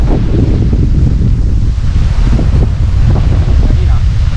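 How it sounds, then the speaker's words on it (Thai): Strong wind buffets the microphone in a loud, constant roar at a tent campsite at Hua Laem, Kaeng Krachan, Thailand, with rain and rustling mixed into the gusts. "วันนี้เรามาฝนตกเลยนะครับ ลมแรงด้วยนะครับ"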